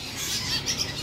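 Sooty-headed bulbuls (kutilang) calling, a few quick, fairly close high chirps over faint background noise, with no talk.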